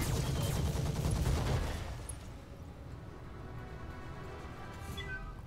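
Mech weapons fire in the BattleTech-based game Roguetech: a dense, loud volley of booming shots and rumbling for about two seconds, then a quieter decaying tail of distant impacts and low rumble.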